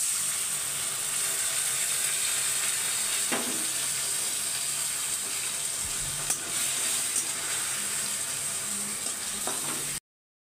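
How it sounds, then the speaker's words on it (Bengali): Steady broadband sizzle of chicken biryani masala in a pot as a little water soaked with whole Kashmiri chillies is poured in, with brief clinks and scrapes over the continuous hiss. "তো এখানে সামান্য পরিমাণ জল দিয়ে দিলাম।"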